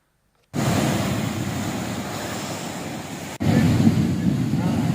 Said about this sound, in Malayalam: ശക്തമായ തിരമാലയിൽ വെള്ളം ആഞ്ഞടിച്ച് വീടുകളിലേക്ക് കയറുകയായിരുന്നു.